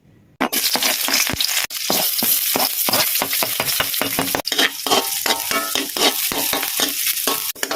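Garlic and onion sauté in rendered pork fat with a loud, close, continuous sizzle, broken by rapid rhythmic scraping and stirring strokes against the pan, without any talking.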